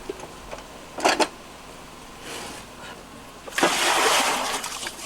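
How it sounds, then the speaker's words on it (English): Water from a small bucket is thrown over a person showering at a well on a remote tropical island: a short double splash early on, then a longer pouring, sloshing gush that trails off. "we just shower at the well with a little bucket that we throw over ourselves"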